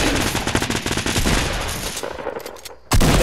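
Rapid, loud gunfire from a shotgun in the video game Fortnite, blasts packed close together in a dense burst, then a short lull before another sharp shot right at the end.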